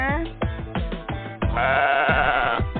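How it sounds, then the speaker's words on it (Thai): Meat sheep bleating in a pen at a Thai buffalo conservation village in Si Prachan, Suphan Buri, close and loud, with a long wavering bleat that sounds almost like a goat, amid other animal sounds and possible voices. "แกะร้องแบบนี้นึกว่าแพะ"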